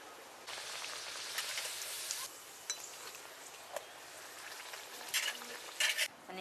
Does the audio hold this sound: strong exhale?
no